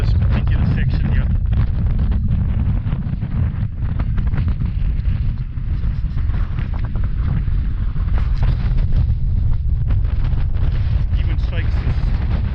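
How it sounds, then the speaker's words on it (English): Strong, constant wind roars across a mountain crest on a hike, buffeting the microphone with heavy low rumbling and gusty surges that continue loud and close throughout. "Always windy like this here at the top, right here at the crest."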